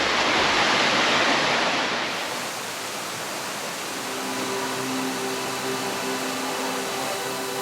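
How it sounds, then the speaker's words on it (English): A powerful waterfall about 25 meters high roars as a loud, steady broadband rush. It eases slightly after two seconds and continues as a dense wash with a faint low hum. "This waterfall is around 25 meters high, and it was really powerful."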